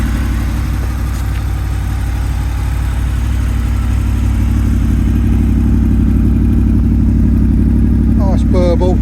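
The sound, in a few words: Honda VFR800 motorcycle engine with Arrow exhaust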